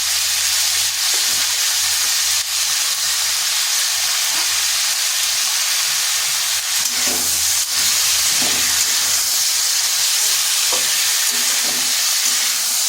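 Cauliflower stalks sizzle loudly and steadily in a hot pan, with a constant frying hiss broken by scraping stirs of a spatula throughout.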